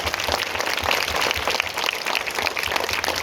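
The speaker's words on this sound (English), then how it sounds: "Clap again once again for the victory of India." An audience claps together in sustained, dense applause celebrating India's victory, with steady loud clapping and no talk through the burst.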